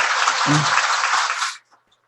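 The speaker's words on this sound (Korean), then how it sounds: "큰 박수로 환영해 주시면 고맙겠습니다" An audience at a Buddhist teaching event gives a dense burst of applause to welcome a speaker, loud and steady for about a second and a half before stopping abruptly, leaving near silence.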